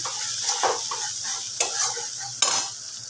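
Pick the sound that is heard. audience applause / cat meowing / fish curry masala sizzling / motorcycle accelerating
fish curry masala sizzling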